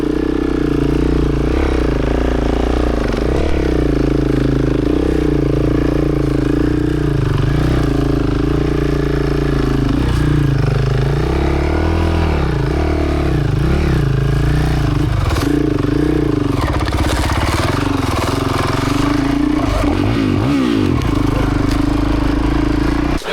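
Several dirt motorcycles rev and labour hard up a steep, rough dirt side track on a Cape York trip, engines droning loud and continuous with surging revs, rattling clatter and scraping throughout.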